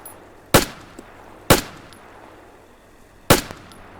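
Gunfire in the military sandbox game Antistasi: three sharp, loud single shots spaced about a second or more apart, each cracking out over a quiet hiss with no talking.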